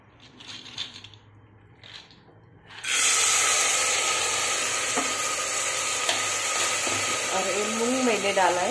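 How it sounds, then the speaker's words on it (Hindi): Soaked black moong beans hit hot oil in a pressure cooker, starting a loud, steady sizzle and hiss that continues with stirring scrapes, after someone talks quietly. "मूंग मैंने डाला है। इसे थोड़ा सा भून कर लेती हूँ।"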